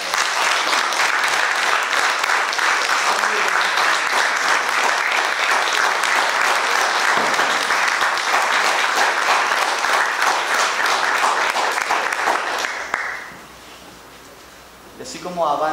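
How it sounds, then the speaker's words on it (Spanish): Large audience applauding a municipal theatre choir at a Christmas concert, dense sustained clapping for about thirteen seconds before fading out into quiet. "Así un gran aplauso a los coros del Teatro Municipal."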